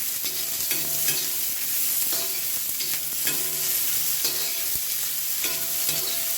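Whole spices dry-roasting on an iron tawa, a steady crackling sizzle broken by repeated scraping strokes of a spatula, close and continuous with no voices.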